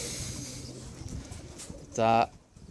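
Racing pigeons in a loft coo, with faint murmuring coos under a person talking and one louder close coo near the end.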